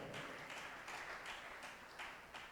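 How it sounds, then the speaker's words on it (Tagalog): Church congregation clapping together at a JMCIM preaching service, faint rhythmic bursts of applause repeating roughly every half second. "pumalakpak ng malakas sa ating mahal na Panginoon"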